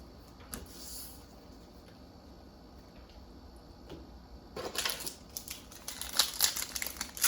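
Yu-Gi-Oh trading cards from 2021 Mega Tins are riffled and flicked in quick, close, crisp bursts over the last few seconds, after quiet handling near the start.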